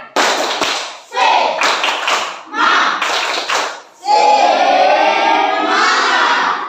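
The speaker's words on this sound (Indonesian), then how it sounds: "coba kita sekali lagi kita tepuk semangat supaya teman kita semangat" A classroom of pupils performs the tepuk semangat spirit clap, loud patterned bursts of unison clapping mixed with chanting children's voices, ending in a sustained shouted cheer.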